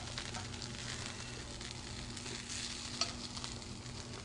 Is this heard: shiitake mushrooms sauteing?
yes